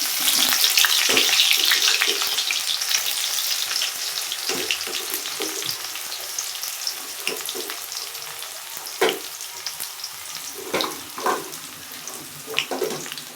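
Onions sizzle and crackle in a hot pan while making onion thokku, with occasional louder pops and stirring scrapes over a steady frying hiss.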